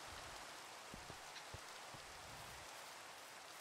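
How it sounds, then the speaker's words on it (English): Steady rain in Minecraft hisses evenly throughout, with a few soft, heavier drops tapping now and then; no voices. "Oh crap! It's raining."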